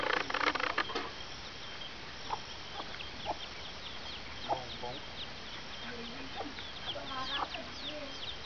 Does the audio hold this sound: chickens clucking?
yes